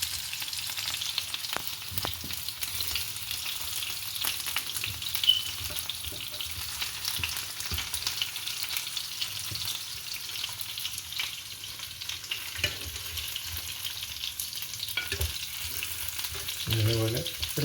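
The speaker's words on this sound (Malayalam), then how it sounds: "ഇതുപോലെ ഒരു മീഡിയം അങ്ങോട്ട് ഫ്രൈ ആയാൽ മതി, ഒരുപാട് ഫ്രൈ ആവണമെന്നില്ല." Chicken pieces for tikka masala fry in a pan, a steady close sizzle and crackle running throughout with a few small clatters, no voices.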